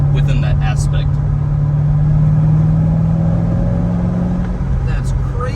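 Chevrolet Corvette C6 engine pulling hard under full throttle in fourth gear, a steady loud low drone that rises slightly in pitch as the car gains speed, heard continuously from inside with a voice talking over it.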